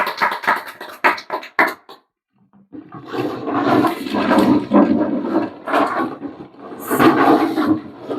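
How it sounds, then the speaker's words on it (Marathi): Loud crowd applause for a prize draw winner at a public draw event, a broad roaring wash of clapping and cheering that swells in waves after a short pause. "यांच्यासाठी जोरदार टाळ्या होऊ द्या एकदा."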